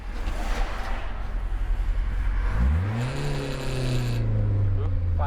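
A Toyota AE86 Sprinter Trueno engine idles with a rough low rumble, then revs up sharply to around 5,000 RPM and holds a loud, steady high drone, close by with no talk over it.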